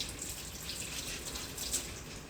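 Tap water running steadily into a sink during handwashing with soap in a home kitchen, a soft continuous hiss and splash heard alone and fairly faint throughout.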